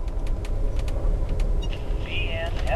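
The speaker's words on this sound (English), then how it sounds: "That's fairly quiet. A little bit of a noise from the rails and not too much else." Low, steady rumble of rail noise inside a quiet Amtrak Superliner car with a roomette, a continuous hum with faint rhythmic ticks and a brief squeal, under someone talking.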